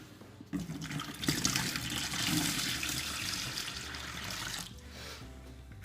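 Water pours steadily into a bucket for about four seconds, a continuous rushing, splashing fill at close range, while making bucket bread dough with salt already added.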